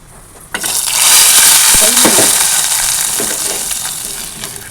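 Hot cumin tempering is tipped into spinach dal and erupts into a loud, steady sizzle that holds for several seconds, with a few clinks of a utensil against the pan.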